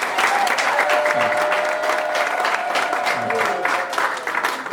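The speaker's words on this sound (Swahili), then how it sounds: "makofi na vigelegele tafadhali." A standing church congregation at a prayer meeting in Ottawa-Gatineau claps loudly and continuously, with a high ululating cry running through the dense applause.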